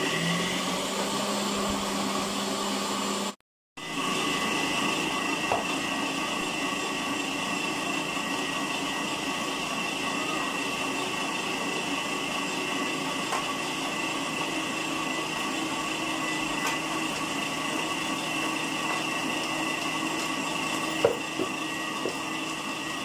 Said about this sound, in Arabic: شغل الفرمة على الآخر.